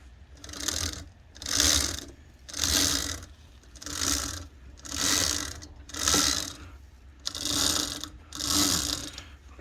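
A Mototec electric motor drivetrain mounted on a Razor SX500 dirt bike is spun by hand, giving eight rhythmic whirring, ratcheting surges that swell and fade about once a second, close up.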